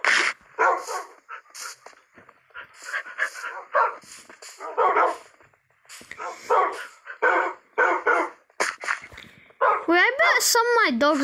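Several Minecraft dogs bark in quick, repeated yips and bow-wows with some whimpering, close and prominent, while a person talks over them.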